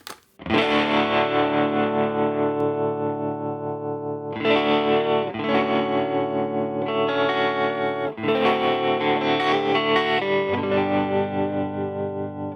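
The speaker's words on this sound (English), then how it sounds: "put the reverb level all the way up, and let's go add some reverb to that sound" Sustained distorted electric guitar chords, with reverb level turned all the way up on an Antelope Audio Zen Go interface, ring out with heavy reverb, struck again every few seconds and blooming into a washy, spacious tail.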